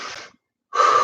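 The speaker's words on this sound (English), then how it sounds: "Breathing." Heavy breathing during an aerobics class: a loud exhale, a short silence, then a stronger breath.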